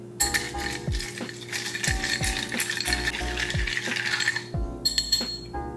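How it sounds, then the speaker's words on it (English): A cocktail is briefly stirred with ice cubes, a quick series of rhythmic clinks and rattles as the ice knocks against the glass, loud and close, with no voices. "we're going to give this a very brief stir"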